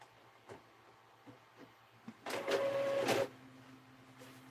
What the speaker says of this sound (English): I'm going to have to put more ink in my printer.